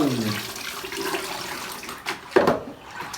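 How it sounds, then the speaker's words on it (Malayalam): Water sloshes and trickles briefly as something is dipped, with a short splash and drip near the end, close and fairly quiet. "വെള്ളത്തിൽ മുക്കിയെടുക്കുന്നു"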